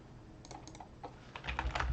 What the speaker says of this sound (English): I don't even know what boxes I'm typing anymore.